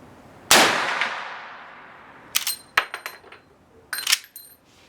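A Henry rifle firing rounds at about 1400 feet per second gives one sharp, loud report that rings out, followed by several short metallic clangs from a struck target, spaced unevenly over a few seconds.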